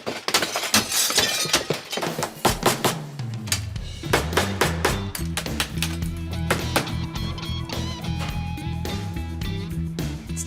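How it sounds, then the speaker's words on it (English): Glass panes are broken out of an old window frame, with sharp cracks and shattering clinks at first, then scattered tinkling impacts over a steady background of music for about ten seconds. "the tricky part is gonna be actually breaking these 2 panels out"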